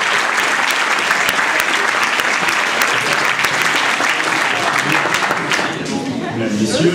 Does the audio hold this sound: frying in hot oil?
no